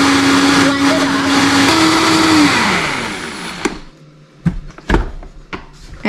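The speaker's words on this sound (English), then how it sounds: "I just turn on my blender" A kitchen blender blends spaghetti sauce in a loud, steady whir that holds, shifts pitch briefly, then spins down and stops, followed by a few clunks and a voice speaking nearby.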